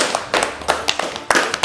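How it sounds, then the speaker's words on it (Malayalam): A few people clap briefly at home during a family quiz game, giving scattered, uneven hand claps close by. "കൈയടി."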